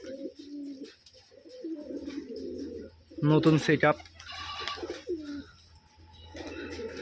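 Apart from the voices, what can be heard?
Rajshahi Giribaj pigeons cooing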